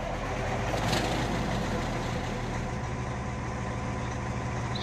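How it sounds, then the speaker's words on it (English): A straight-piped Cummins ISX 15 engine in a Peterbilt 579 truck idles in a video game, a steady, loud, low rumble that runs without a break. "the Cummins ISX 15 straight piped engine mod that I have in"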